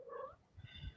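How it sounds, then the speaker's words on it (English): A cat purring softly at close range, a faint low rumbling flutter with quiet tonal sounds drifting over it, very low in level. "it's your cat"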